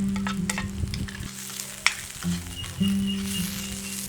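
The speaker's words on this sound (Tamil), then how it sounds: "கேபேஜ் போட்டு கொஞ்சம் நேரம் வதங்கினா போதும்." Cabbage stir-fries in hot oil for roadside-style chicken fried rice, a close steady sizzle broken by sharp scraping strokes of a spatula against the pan.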